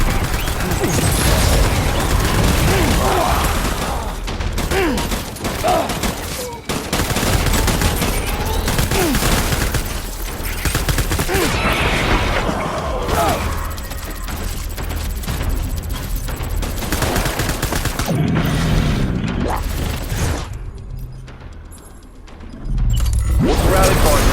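Dense, sustained gunfire fills a Death Stranding firefight, with rapid automatic bursts and booming impacts nearly nonstop, loud and close, while voices call out beneath it.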